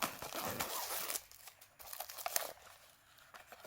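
Plastic film crinkles and tears as steelbook packaging for a 4K Barbenheimer release is unwrapped, with quiet, close, irregular rustles and small crunches.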